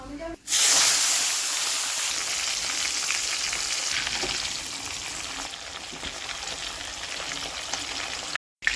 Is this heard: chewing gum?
no